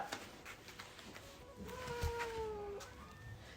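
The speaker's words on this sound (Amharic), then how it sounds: "ድመት እኮ ትወጣለች ውጪ ስትባል ውጪ" A cat meows once in a long drawn-out call with a falling pitch, faint and alone against a quiet room background.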